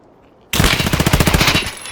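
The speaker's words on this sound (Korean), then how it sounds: "나 앞에 뭐가 왔네 뭐가 쏜다" A sudden burst of rapid automatic gunfire erupts in the video game Escape from Tarkov, a loud close string of shots in quick succession after a brief quiet moment.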